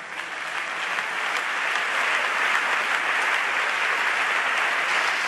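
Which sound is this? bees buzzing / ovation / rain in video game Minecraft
ovation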